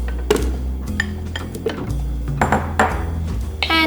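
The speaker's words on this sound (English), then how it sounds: "Now we're going to add our pumpkin and carrot," Pieces of pumpkin and carrot tumbling into a Thermomix TM5 bowl: a quick run of close clinks and knocks against the bowl over a low, steady machine hum.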